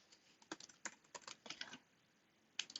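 Quick keystrokes on a computer keyboard while an SQL select query is entered, sounding as clustered close clicks in irregular bursts with a brief pause before a final tap, unaccompanied by speech.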